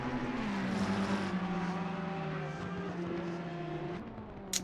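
Race cars in a sim racing video game at Spa, engines droning loudly and steadily with shifting pitch as they accelerate and change gear, a continuous close roar with no talk.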